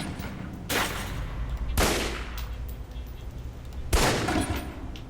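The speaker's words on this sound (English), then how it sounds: "Equip the pistol, then aim down range and take some shots at the target." Pistol shots fired at a target in the video game Alpha Protocol: three sharp, loud reports spaced irregularly over a low steady background hum, with no voices.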